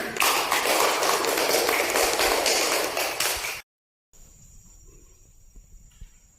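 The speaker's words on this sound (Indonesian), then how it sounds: "Kita berikan dulu tepuk tangan untuk kelompok Hawa" Elementary-school classroom applause for a student group during a religious education lesson, a dense, loud stretch of many hands clapping for several seconds that stops abruptly and gives way to near-silence with a faint steady hum.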